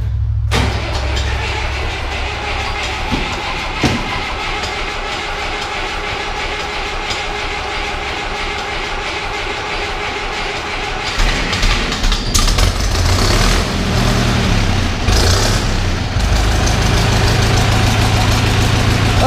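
A tractor diesel engine runs loudly and close on a mild, roughly 70-degree day. A steady, rumbling idle holds for the first half, then the engine note shifts and roughens as it settles into a heavier running idle.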